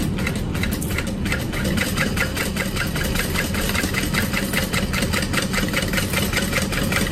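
A sewing machine stitches along piping on a duffel bag, running in a fast, steady, even mechanical rattle close by, with no pauses or talk.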